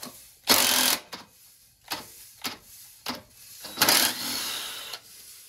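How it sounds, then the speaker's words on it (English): An impact gun fitted with a 13mm socket hammers at a part on a Motovox minibike engine, giving several short, sharp bursts of ratcheting impacts with brief pauses between them, close and fairly loud. "I'm just using a 13mm socket on my impact gun to just impact this off."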